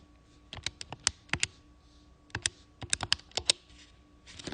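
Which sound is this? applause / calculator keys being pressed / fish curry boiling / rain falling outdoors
calculator keys being pressed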